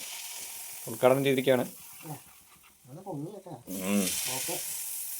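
Unniyappam batter sizzles and crackles in a hot appam pan, a soft frying hiss that swells toward the end beneath steady conversational talk and a laugh.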